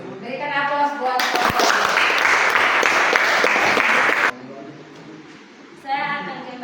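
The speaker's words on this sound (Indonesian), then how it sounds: "Berikan aplaus buat" Applause for presenters at a classroom presentation, a burst of many hands clapping that starts abruptly and stops sharply after about three seconds, framed by brief voiced sounds before and after.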